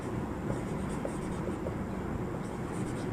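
A pen or chalk scratches out a word during a spoken English lesson, a close, continuous scraping with a few short strokes, unbroken by speech.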